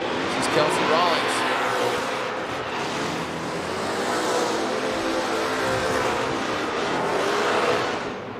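A Ford-chassis Formula Drift car slides through a drift run, its engine roaring and tyres howling at moderate distance while a commentator talks over it continuously.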